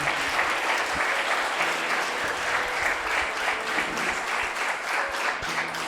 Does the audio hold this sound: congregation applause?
yes